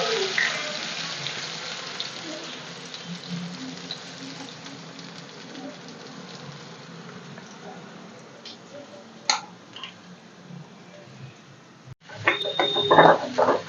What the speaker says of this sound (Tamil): கொஞ்சம் நல்லா வெங்காயம் வதங்கட்டோமா.